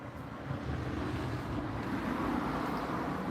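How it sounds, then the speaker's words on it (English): Road traffic passing outside, a steady low rumbling wash that swells slightly toward the end, distant and continuous with no voices. "sorry about the traffic and all that kind of stuff"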